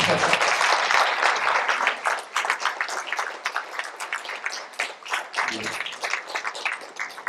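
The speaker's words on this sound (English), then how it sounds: "Yes, we can applaud, yes." Audience applause at a speech event, a loud dense burst of many hands clapping that gradually thins and becomes more irregular as it fades.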